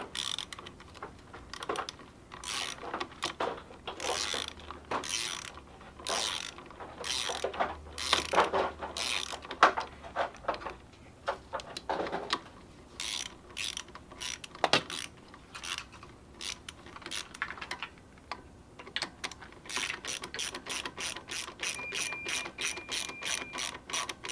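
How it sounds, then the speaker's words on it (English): An impact wrench tightens the clutch bolts on a Honda Grom MSX125 fitted with a TRS clutch plate and EBC springs. Repeated rapid rattling bursts are separated by short pauses, ending in a longer run of quick hits. "If they look good, then he's going to tighten up with the impact"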